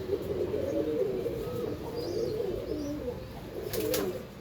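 Punjabi pigeons coo softly and repeatedly up close, with occasional faint chirps and a brief flutter of wings in a quiet setting.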